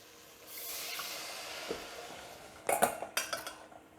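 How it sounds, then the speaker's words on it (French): Chicken broth is poured into a pan of salmon blanquette, a soft rushing hiss followed by a few clinking knocks of metal utensils against the pan, close and fairly quiet. "je mouille au bouillon de volaille"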